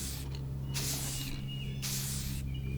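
Spray primer hisses onto a die-cast toy car in short close bursts, three or four separate sprays with brief pauses between them, over a steady low background hum.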